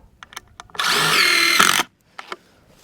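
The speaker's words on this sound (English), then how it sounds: "Just gives me a chance to get more screws into that ICF." A power drill drives screws into ICF insulated concrete forms, with a short tap or two, then one steady whirring run of about a second, then a few brief knocks, all loud and close with no talk.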